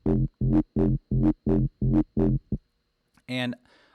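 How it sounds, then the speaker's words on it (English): A buzzy, gritty synth pulses in eight even, chugging notes, followed by a brief, brighter synth tone with a harsh distorted edge. "I threw some distortion on it."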